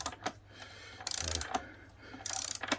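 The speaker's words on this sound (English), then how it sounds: "Okay, torque wrench, and on this bike it's 100 Newton meters." A torque wrench ratchets in short bursts while tightening a motorcycle chain adjuster to 100 Newton meters, giving two or three close, crisp clicking runs separated by brief pauses.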